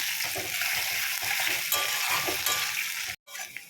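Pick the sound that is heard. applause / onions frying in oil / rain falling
onions frying in oil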